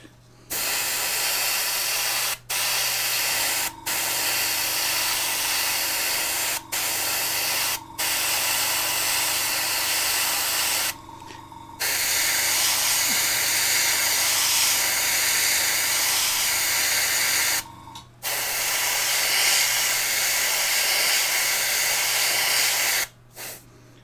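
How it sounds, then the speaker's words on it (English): A small air compressor with a 2-litre tank runs close by as a loud, steady hissing drone, with a few brief dropouts where it cuts off for a moment before resuming. "Now this compressor is only 2 litres of storage, so it will be turning on and off quite frequently."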